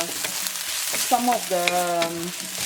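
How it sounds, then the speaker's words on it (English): Onion sautéing in a pan for spinach kootu, a steady close sizzle with stirring scrapes and a few light clinks, heard on its own with no voices. "now the onion is almost sautéed"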